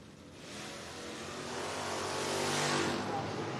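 Drag race cars, a Camaro and an '80 Malibu, launch off the line at a drag strip, a broad roaring engine wash that builds in loudness over a few seconds, heard from a distance.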